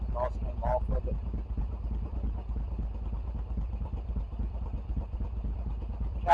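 A Kawasaki Brute Force ATV engine idles through its exhaust cans, a low steady rumble at moderate distance, with someone speaking briefly near the start.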